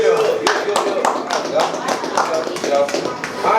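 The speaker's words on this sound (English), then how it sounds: "put your hands together for Coco" An audience applauds the performer Coco at a writing session event, with steady, fairly loud clapping from a group throughout and voices mixed in underneath.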